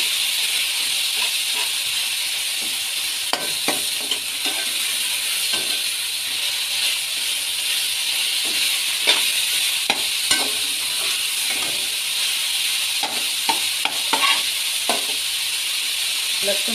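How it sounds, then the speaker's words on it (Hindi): Onions and cumin seeds fry in a pan with a steady, close sizzle and hiss, while a spoon stirs and scrapes through them in scattered clicks and knocks; no one talks. "तो अच्छा से मैं भून लूँगी जीरे और प्याज के साथ"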